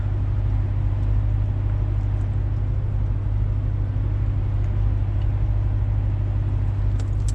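A mid-engine 2020 Corvette C8 Stingray 1LT Z51 with magnetic ride, its revised LT2 V8 and 8-speed dual-clutch gearbox giving a steady, loud, close low rumble while cruising at night, with no talking.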